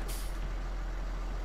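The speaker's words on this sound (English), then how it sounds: "just the release as you put your foot on the brake or take your foot off the brakes is enough" Air brake release on a vehicle in the Farming Simulator 19 video game, a single loud, sharp hiss of escaping air that bursts out and holds steady, heard alone and close.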